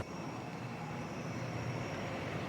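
A steady, droning airplane engine roar, an even broadband hum with a faint high whine running through it, constant in level and without voices.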